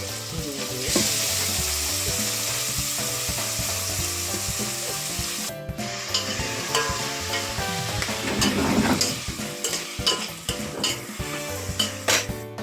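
Rabbit curry with tomatoes, ginger and garlic sizzling loudly in a pan, with continuous frying hiss, repeated scraping and clinking of a utensil as it is stirred, and no voices.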